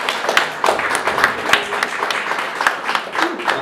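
Audience applause after a roundtable retrospective and book launch on curating live arts: close, lively clapping from a modest crowd, with individual claps standing out across the few seconds.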